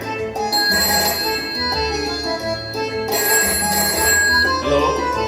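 A telephone rings loudly and steadily during a skit at an Onam celebration at Sapthaswara Music Club, as a call is placed to the police station, with the ring pattern restarting midway and no voices over it.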